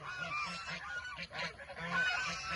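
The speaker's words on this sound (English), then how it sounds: "why would anybody want geese?" A flock of geese honks loudly after storms, repeated nasal calls overlapping in an uneven rhythm, fairly near and unaccompanied by talk.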